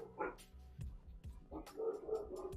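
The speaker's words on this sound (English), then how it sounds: "apologies if you're hearing incessant barking in the background." A dog barks and yips in short bursts, faint and somewhat distant, while a person talks over it.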